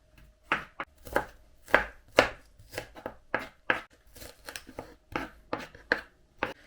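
A knife chops onion on a board in a quick, uneven rhythm of about a dozen crisp strikes, close and clear with no talking.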